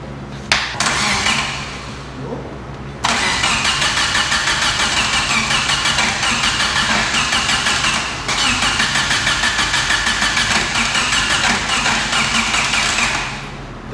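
A Mitsubishi Galant VR-4 engine cranks loudly and continuously with its cam angle sensor disconnected, a brief start at first, then a long steady churning crank that never catches, with a short pause midway.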